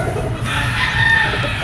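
Gamefowl roosters at a native game farm crow nearby, one loud drawn-out crow rising over farmyard background sound.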